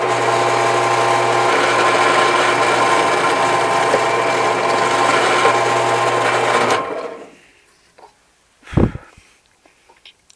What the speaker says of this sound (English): we move him over here to the other pin and drill the other hole